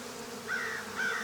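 Honeybees at an open beehive hum in a steady, close, dense drone, with a couple of brief, higher buzzing swells rising above it and no talking.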